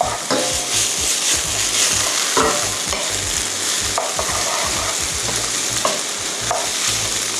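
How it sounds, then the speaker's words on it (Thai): Udon noodles with crab stick stir-fried in sauce, a steady close sizzle with repeated scraping and tossing strokes from the utensil against the pan, no voices. "ผัดให้ตัวเส้นเริ่มซึมตัวน้ำซอสลงไป"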